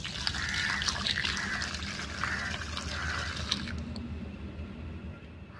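Water running and splashing as rohu fish is washed by hand in a kitchen, a steady trickle with intermittent squishy handling sounds that cuts off near the end, leaving a quiet hiss.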